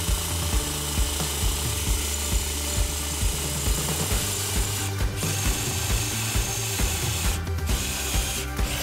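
A cordless NRT PRO DC340 impact drill bores through a 2.5 mm steel plate, giving a steady whirring, rattling drive with quick hammering pulses and short pauses, loud and close with no talking.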